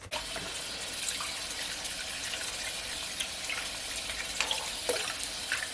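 Cold water runs steadily from a kitchen tap while fish is washed for Jamaican escovitch fish, a constant close hiss with occasional splashes as the flow hits the fish and sink.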